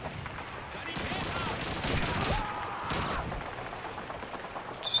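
Gunfire in the World War II shooter Call of Duty 2 during house-to-house fighting: a burst of rapid shots followed by scattered single cracks, fairly close, with faint game noise around them.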